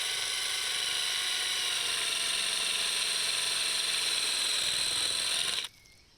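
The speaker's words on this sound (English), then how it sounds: "some other things that you can consider to create holes is to use a drill." A steady high-pitched power drill bores holes in garden soil for planting bulbs, running loudly and continuously for several seconds, then cutting off abruptly.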